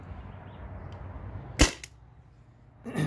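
A modded Byrna TCR launcher running on an HPA tank fires with a sharp, loud pop followed by a quick softer click, then another burst of noise moments later in a quiet room.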